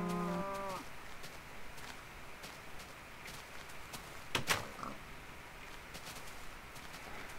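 A single drawn-out cow moo from Minecraft at the start, followed by quiet ambient hum and a short clattering burst midway.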